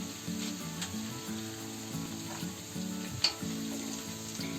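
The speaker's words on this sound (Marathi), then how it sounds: "लसूण चांगली फ्राय झाली आहे." Garlic and four dry red chillies sizzle steadily in a hot pan, a continuous close frying hiss with a few faint stirring touches and no talk.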